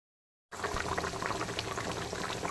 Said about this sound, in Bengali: ভেজে রাখা তপসে মাছগুলো দেওয়ার পরে ঝোলটাকে আবারও দু তিন মিনিট ফুটিয়ে নিলাম